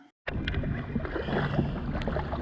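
A Yamaha GP1200R jet ski fitted with a supercharged 1800 engine rides past. After a brief silence, a loud, rushing mix of engine and water noise cuts in suddenly and stays steady for about two seconds.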